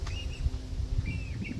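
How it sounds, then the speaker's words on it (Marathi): A few short chirps from small birds over a low rumbling background, brief tweets spaced apart, moderately near. "पक्ष्यांचा आवाज येतोय बारीक बारीक बारीक बारीक असा चिव चिव चिव चिव"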